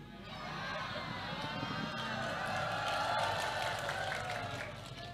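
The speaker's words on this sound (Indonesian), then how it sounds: "Ngapa tepuk tangan, Pok?" Applause from an audience at an Indonesian religious lecture by Ustad Tile, a steady wash of clapping and crowd noise sustained for several seconds with voices mixed in.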